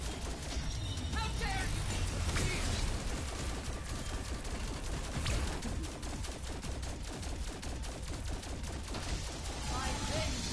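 Dense, continuous gunfire from shooting zombies in Call of Duty Cold War, loud rapid bursts running the whole time with players talking over it.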